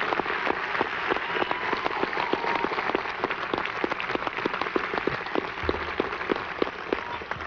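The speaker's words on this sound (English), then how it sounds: "What are you clapping about?" Graduating college class audience applauding at a commencement, a steady dense wash of many hands clapping throughout, moderately loud and without speech.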